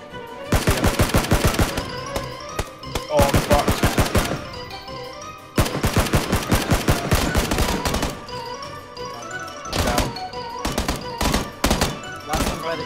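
Loud, rapid bursts of automatic gunfire from the PUBG battle royale game, several sustained volleys separated by brief pauses, close and dominant throughout.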